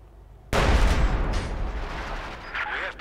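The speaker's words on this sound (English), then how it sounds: "Another barrage here again." An artillery barrage in the game Company of Heroes 2 hits with a sudden loud boom, then a long rumbling roar of explosions that slowly fades, with faint game effects behind.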